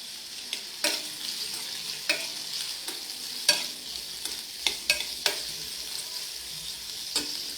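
Onions and finely cut julienned vegetables frying in a pan, with a steady soft sizzle broken by repeated sharp scrapes and taps of a spatula stirring, close by and with no voices.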